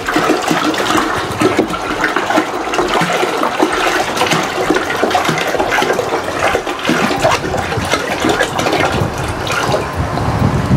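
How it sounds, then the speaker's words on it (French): Five litres of water pour steadily into a cooking pot for hard-boiled eggs, a loud, continuous gushing splash that runs unbroken for the whole stretch, close by with no voices over it. "Et je remets 5 litres d'eau."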